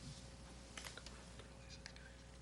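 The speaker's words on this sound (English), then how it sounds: "she's typing up the motion" Someone types up a motion on a computer keyboard during a city committee meeting, with faint, quick key clicks in short bursts over a quiet room hum and a hint of whispering.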